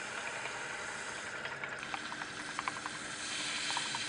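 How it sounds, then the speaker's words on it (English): Carbon dioxide fizzes steadily as acid is added to sodium carbonate in a chemistry preparation, making a faint, continuous bubbling hiss dotted with small pops and no voices. "the acid will start to react with the sodium carbonate that was formed as a reaction product. And lots of CO2 is produced."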